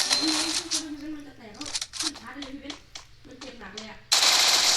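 Rapid bursts of gunfire crackle in Free Fire beneath a voice talking, with a louder, closer volley breaking out at the end.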